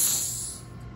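Gas hisses steadily from an Ozark Trail 4-in-1 camping stove, a soft, close, even hiss that fades slightly over a second.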